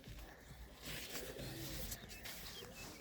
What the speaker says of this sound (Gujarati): સો મિત્રો અહીંયા કેટલા બધા કબૂતરા આવી ગયા છે